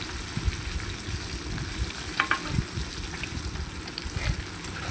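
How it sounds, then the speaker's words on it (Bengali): Pieces of steamed egg fry in mustard oil with a soft, steady sizzle at low volume, broken by a few faint clinks and stirring sounds. "তারপরে আমি ভাপা ডিমের টুকরোগুলো ওতে দিয়ে দিচ্ছি।"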